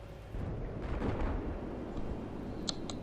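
An LAV fires its main weapon in Battlefield 4, one heavy booming blast with a long rumbling roar that fades slowly, with a couple of faint distant pops near the end.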